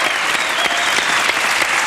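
Dense, steady audience applause for a singer in a French television studio, a close continuous wash of clapping lasting a couple of seconds.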